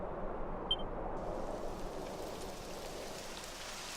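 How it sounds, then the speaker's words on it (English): Steady rain begins falling in the video game Dragon Quest XI on the path to Heliodor, a continuous soft hiss of drops on the ground that holds evenly throughout with no other sounds. "It would have to go and start raining, wouldn't it?"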